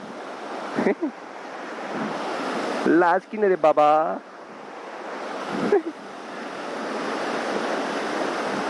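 Rushing water roars steadily, like a small waterfall or fast stream, close and loud, with a person briefly speaking over it.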